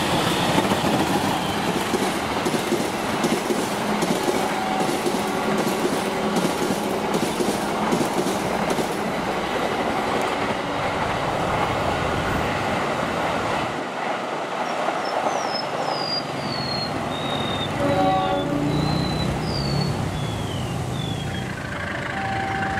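The Direct Train, an Indonesian passenger express, roars past at high speed near Cirebon with continuous loud rushing and clickety-clack of wheels over rail joints, followed by a run of high metallic wheel squeals as the cars go by.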